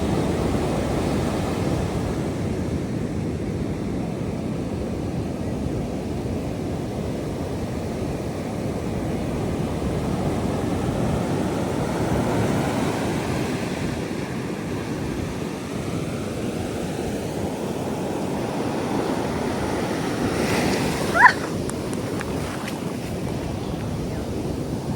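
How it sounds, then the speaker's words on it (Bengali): Sea waves rolling in and crashing one after another on the shore at Puri beach in the early morning, a steady broad wash mixed with wind noise on the microphone, with one brief sharp knock near the end. "সমুদ্রের এই আওয়াজ আর এই পাড়ে আছড়ে পড়া একের পর এক ঢেউ"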